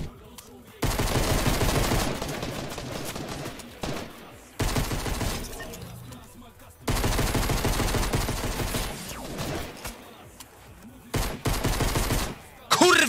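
Pistol fire in the Minecraft video game comes in long, loud rapid bursts separated by short gaps, with the rounds crackling in quick succession.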